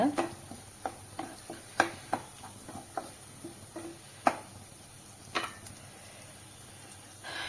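Onions with green chillies and curry leaves being stirred in a pan for an egg gravy, with a steady run of sharp utensil taps and scrapes over a soft background sizzle.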